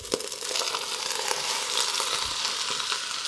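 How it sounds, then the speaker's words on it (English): Ground meat hits a tablespoon of hot oil in a heating pot, making a dense, steady sizzle and crackle with a few light scraping knocks, close and continuous with no talk. "into our pot, which is heating up, I put a little bit of oil, a tablespoon or so, and we'll get our meat going right away"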